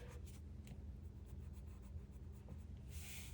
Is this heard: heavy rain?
no